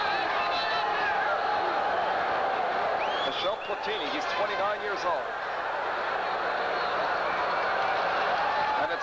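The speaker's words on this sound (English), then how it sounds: "The crowd with the chant of defense." A stadium crowd at a 1984 friendly between the New York Cosmos and Juventus FC chants steadily as a broad, continuous roar, with a commentator speaking over it throughout.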